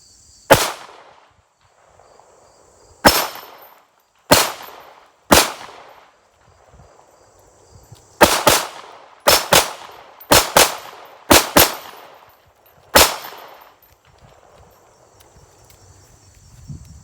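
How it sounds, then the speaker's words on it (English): Sharp gunshots from a SARUSA B6C rifle fired at steel targets 15 feet away, loud separate cracks in spaced pairs and singles with brief decays, and no talking. "We're gonna shoot at the steel now. Control pairs on the steel, 15 feet."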